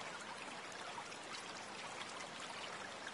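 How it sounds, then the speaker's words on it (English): Soft, steady rush of a flowing stream in the game Raging Loop, a continuous faint wash of running water with no clear rhythm and no voices. "Sure enough, there was a river, or a stream, rather."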